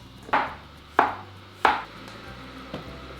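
Courgettes being chopped for soup with a knife on a cutting board. Four sharp, separate cuts land about two-thirds of a second apart, then a quieter fifth. There is no talking.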